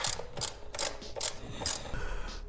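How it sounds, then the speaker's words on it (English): A ratchet tightens a nut and bolt holding the seat on a Honda Rebel bobber build, giving five evenly spaced bursts of sharp clicking, close and fairly loud, with no one talking. "So I'm gonna go ahead and bolt this down"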